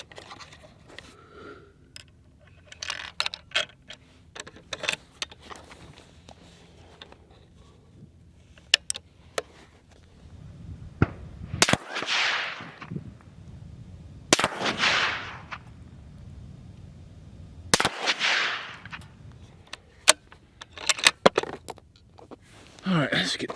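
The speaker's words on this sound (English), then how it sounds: "let's start sending some rounds. So we're gonna start with these Burger 144 grains" Rifle rounds fired with Berger 144 grain bullets on a precision rifle fitted with a Pure Precision SKLTN and Helix 6: three sharp, loud shots a few seconds apart, each with a ringing decay, amid scattered clicks and handling noises.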